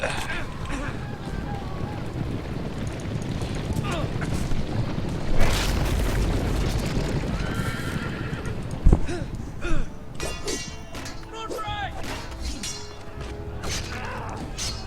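In the Telltale Game of Thrones video game, horses neigh and hooves clatter amid a booming, chaotic scene with loud impacts, while voices talk over the action.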